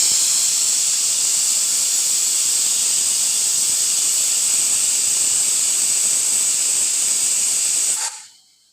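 Pressure cooker on a gas stove vents steam with a loud, steady high hiss lasting about eight seconds, then cuts off abruptly into silence.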